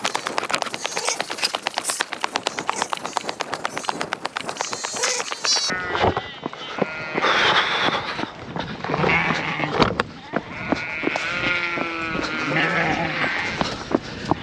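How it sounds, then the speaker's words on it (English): Sheep bleat repeatedly on a farm, close and loud, mixed with rhythmic running steps and outdoor noise as a person talks among them. "Try and get by this sheep now, no dog."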